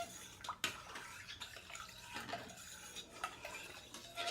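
A utensil stirs milk mixed with yogurt culture in a pot, soft clinks and scraping against the metal with faint liquid swishing, quiet and irregular.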